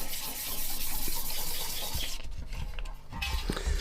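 Wet sanding a nitrocellulose lacquer finish on a guitar pedal with fine abrasive and water, a continuous wet rubbing and splashing sound close up with a few soft knocks, no talking.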